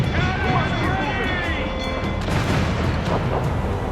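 Mortar fire and explosions in a video game naval battle around sailing ships form a dense, continuous booming rumble, with voices shouting over the din.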